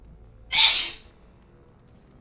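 A single sharp, breathy sneeze from a character in the Dragon Age: Origins video game bursts out close and loud for about half a second, then fades into quiet background hiss.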